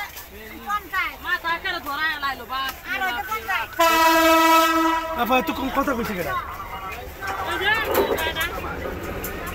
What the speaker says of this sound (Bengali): এখন ট্রেন যাচ্ছে, এই যে ট্রেন যাচ্ছে।